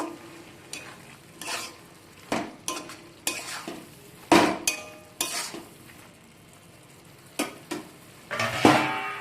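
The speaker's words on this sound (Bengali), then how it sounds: "শাক দিয়ে আমি সবকে ভালো করে মিশিয়ে নেব" Spinach and bori being stirred together in a cooking pan, with a spoon scraping and knocking against the metal in repeated separate strokes over a soft background sizzle, close up and with no talk.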